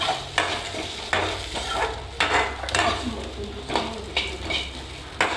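Fennel, poppy seeds and spices are sautéed together in a pan for chicken gravy. A soft sizzle runs underneath while a utensil stirs and scrapes at regular intervals, each stroke giving a clear scraping sound.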